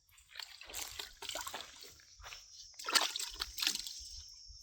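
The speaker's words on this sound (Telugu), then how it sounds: "ఈ కాయలు మనం వాటర్లో కడిగేసుకుందాం." Raw mango pieces for a sliced mango pickle are rinsed in water, giving quiet, close sloshing, dripping and splashing in short bursts.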